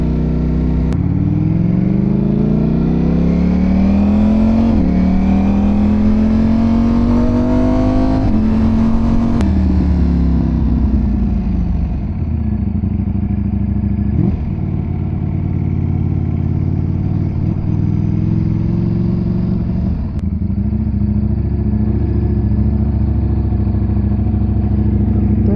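A Ducati Streetfighter V4S running while being ridden, its engine climbing through revs with rising tones, then dropping back to a steadier, lower drone with a few sharp shifts, loud and close throughout.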